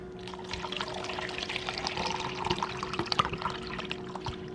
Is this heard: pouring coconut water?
yes